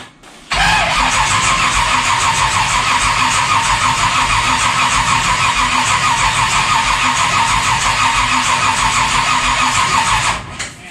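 A vehicle engine cranks steadily for about ten seconds with the starter's rapid, rhythmic churning, loud and close, never catching or firing before it stops.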